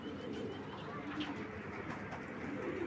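Pigeons just let loose, including pure white birds and Spanish pouter-type breeds, coo softly and steadily alongside a continuous rustle of background noise, with no talking over them.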